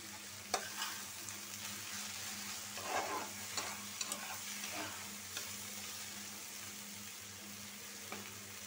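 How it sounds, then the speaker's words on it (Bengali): Egg bhaji stir-frying in a pan, a steady soft sizzle over a low hum with intermittent scrapes and taps of a spatula, fairly quiet and without talk. "হয়ে গেছে আমার ভাজি।"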